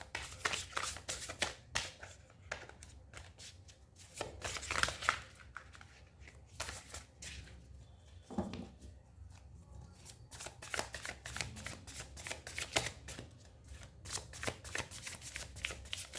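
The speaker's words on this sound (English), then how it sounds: "Two more cards for Gemini." Tarot cards are shuffled by hand in a quiet room, with repeated crisp riffling bursts and soft papery slides that continue steadily and close up, with no talking.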